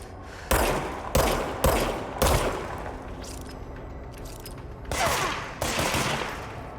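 Enemy gunfire in the video game Control crackles in heavy bursts, with several sharp, loud shots in quick succession followed by a quieter stretch of rumbling fire, and then more reports near the end.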